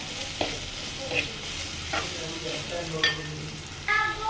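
Onions sautéing with salt in a pan for a prawn roast, a soft steady sizzle broken by several scraping stirs and light clinks of the spatula, close by.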